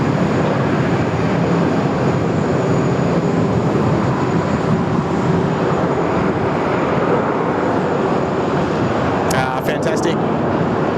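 An Airbus A330 on runway 16 right gives off a loud, steady jet roar that fills the whole stretch, heard from an airport vantage point, with a brief clatter near the end.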